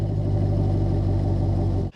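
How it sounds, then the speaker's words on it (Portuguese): A Chevrolet Camaro V8 coupe idles steadily up close, a loud, low, even rumble that holds throughout and cuts off abruptly at the end. "e escutar o som desse V8 maravilhoso."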